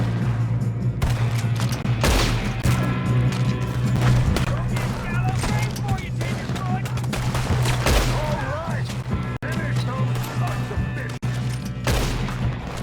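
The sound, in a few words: gunfire in the video game Red Dead Redemption 2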